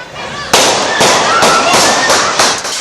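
Several loud, sharp gunshots ring out about half a second apart, each one echoing before the next.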